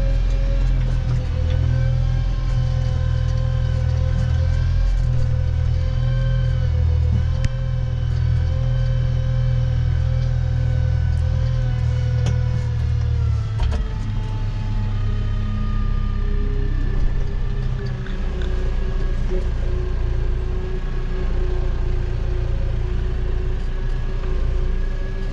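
A tractor pushing up a manure heap on rain-wet pasture drones with a loud, continuous low engine rumble, its pitch shifting midway as the wheels slip.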